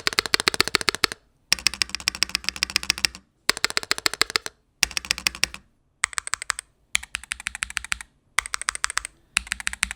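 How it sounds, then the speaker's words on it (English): MCHOSE Ace68 Turbo mechanical keyboard with topography keycaps, typed on in quick bursts of crisp, close clacks separated by short silent pauses, with no talking. "a better sounding keyboard, the 68 Turbo"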